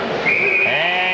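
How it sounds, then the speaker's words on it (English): A referee's whistle at a 1996–97 junior ice hockey game between North Bay and New Liskeard gives one sustained, fairly loud shrill blast that holds its pitch for about a second over faint arena noise. "And we get a whistle."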